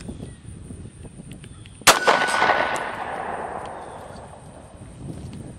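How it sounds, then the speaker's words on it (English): A single loud, close gunshot from a Glock 19 9mm pistol firing 115 grain full metal jacket rounds, a sharp crack followed by a ringing metallic decay that fades over several seconds. "So first up, Glock 19 9mm, 115 grain, full metal jackets."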